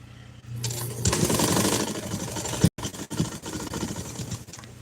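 A sewing machine stitches fabric nearby in a fast, buzzing run of needle strokes, pauses abruptly, then resumes in a few shorter bursts before slowing. No voices are heard.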